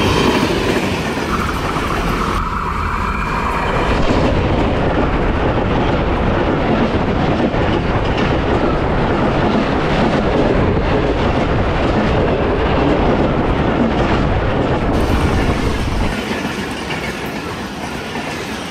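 The Rahman Baba Express, hauled by locomotive ZCU 26410, runs through Haripur Band railway station in rain, a loud continuous rumble of wagons with rhythmic clickety-clack and faint wheel squeal from start to finish.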